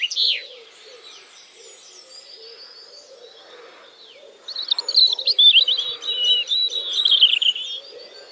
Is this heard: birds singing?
yes